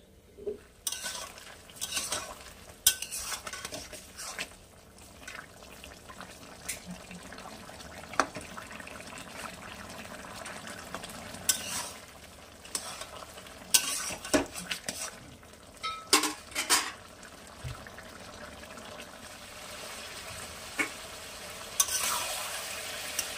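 A Bengali non-veg ghonto curry cooks in a pan, with a low, steady bubbling sizzle underneath and irregular scraping and clinking from utensils stirring against the pan at close range.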